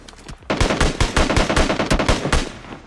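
Rapid automatic gunfire in a mobile shooter game rattles out in a dense, loud burst of closely spaced shots lasting most of the moment after a brief quiet start.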